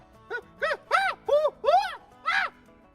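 A series of six short, clear whistled or warbling bird-like calls, evenly spaced and fairly close, with quiet pauses between them.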